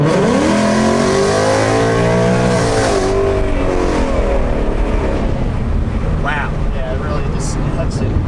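A tuned 2019 Ford Mustang GT accelerates hard, its loud V8 engine climbing steadily in pitch before the revs drop and the car settles into a lower roar, with faint knocks near the end.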